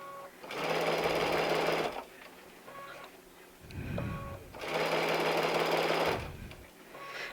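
Baby Lock sewing machine stitching fabric, two sustained bursts of fast, steady mechanical whirring close by, with a quieter pause and a brief voice between them.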